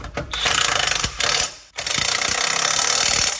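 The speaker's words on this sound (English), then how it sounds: "That wheel bearing's rough." A rough, worn wheel bearing on a Rolls Royce wheel being spun, giving a loud, close, rapid rattling grind with a quick ratcheting pulse, broken by two short stops before it runs on steadily.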